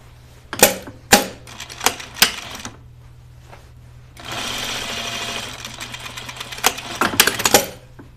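A sewing machine runs in several short rapid bursts, then a longer steady run, stitching the fly rise seam of cotton pajama bottoms; close and mechanical with pauses between stretches.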